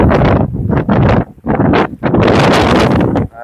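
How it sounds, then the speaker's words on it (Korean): Strong, gusting wind buffets the microphone on a sheer sea-cliff face at Beomseom, Jeju, while fishing for opposite-tail blackfish, roaring loud and close in uneven surges with brief lulls. "진짜 바람 세네"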